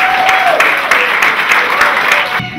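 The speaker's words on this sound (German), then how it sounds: "Danke für den Applaus" An audience claps steadily at a live stage show, a dense, loud and sustained wash of applause that cuts off abruptly near the end.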